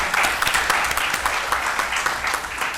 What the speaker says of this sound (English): they deserve a resounding round of applause